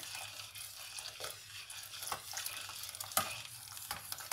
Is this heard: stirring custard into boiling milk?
yes